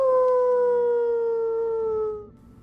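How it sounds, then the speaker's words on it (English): A dog howling at night, a story sound effect: one long, clear howl that slowly slides downward in pitch, then fades out, heard alone against faint background noise. "she could hear a neighbor's dog howling weirdly in the night."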